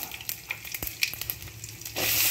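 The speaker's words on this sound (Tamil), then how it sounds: "கொஞ்சம் போது எண்ணெய் ஊற்றி அது கூட கடுகு, கொஞ்சம் சீரகம், பட்டை மிளகாய்" Mustard seeds, cumin, cinnamon and chilli frying in oil in a kadai, with scattered popping crackles and a brief thump, then a louder, steady sizzle surging near the end.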